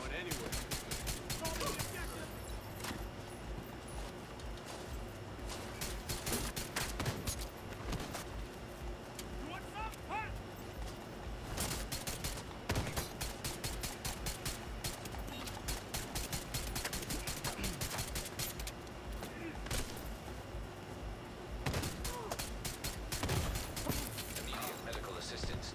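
Two automated enemy turrets in the shooter game The Division 2 pour out rapid, sustained gunfire, dense sharp cracks repeating almost without pause across the whole stretch, loud and close, with a voice talking intermittently over the barrage.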